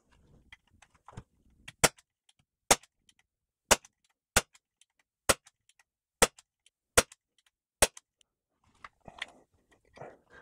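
Tanfoglio race air pistol fired over a chronograph: seven sharp, loud shots spaced about a second apart, each a crisp crack standing alone, with faint handling clicks and rustle between and after.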